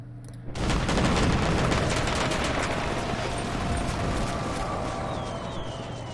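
Massed musket volleys crackle in a war strategy video game, a dense, continuous roar of overlapping gunshots that starts abruptly and rolls on loudly throughout, with faint tonal game sounds underneath.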